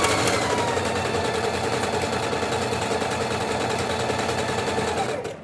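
A sewing machine runs steadily at high speed, a fast even mechanical whir with a rapid stitching rhythm, close and loud, then stops abruptly at the end.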